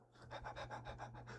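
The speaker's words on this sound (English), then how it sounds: "Did you listen to that dog panting?" A dog pants in quick, steady rhythmic breaths, about eight or nine close, raspy huffs in a row over a low constant hum.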